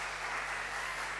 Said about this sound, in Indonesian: Bolehkah Bapak Ibu tepuk tangan untuk mereka?